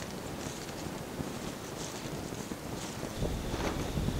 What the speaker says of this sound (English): As you can see, it's pretty windy up here on the hill